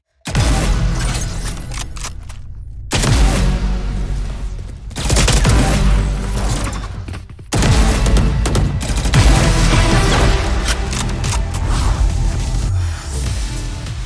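Gunfire from a VALORANT Champions weapon skin in the video game: bursts of close, loud shots come in several separate volleys, with metallic mechanism clicks and swooshing kill-banner effects layered over them.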